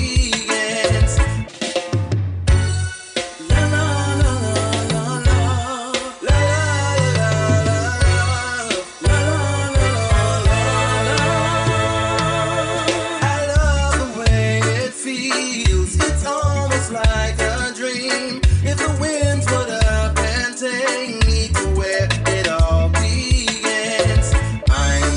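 A song plays as a full, dense band track with steady rhythm and sustained instrumentation throughout, loud and continuous, no talking.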